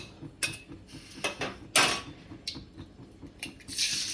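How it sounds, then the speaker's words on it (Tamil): An egg cracked into oil in a cooking pan, heard as a few sharp clicks and taps of shell and metal followed by a rising soft sizzle toward the end, quiet with no talk. "ஒரு பாத்திரத்தில் எண்ணெய் எடுத்துக்கிட்டு ஒரு முட்டையை உடச்சி ஊற்றிடலாம்"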